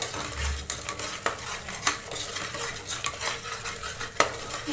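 Washed horse gram goes into an oily masala in a pan, with stirring, utensil scrapes and metallic clinks over a low sizzle, close and steady with a few sharper knocks.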